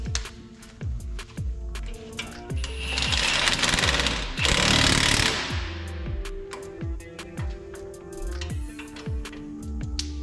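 Impact wrench tightening tie rod bolts on a car's front end, firing in repeated short rattling bursts with a longer hammering run midway, loud and close.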